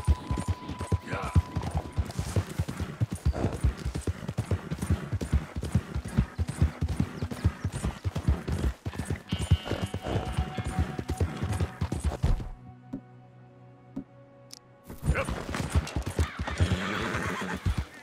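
A horse in the Red Dead Redemption 2 video game neighs and whinnies while its hooves clip-clop steadily, close and fairly loud, with a game soundtrack mixed in and a short near-silent gap late on.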